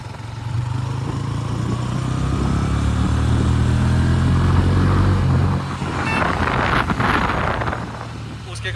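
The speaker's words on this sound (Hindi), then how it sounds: "अब टेस्ट करते हैं तीसरे गियर में 50 तक कौन सी बाइक आगे रहती है।" Two Honda motorcycles, a Hornet 125 and an SP125, accelerate together in third gear, their engine drone rising steadily with wind buffeting the microphone, then a burst of rushing wind noise.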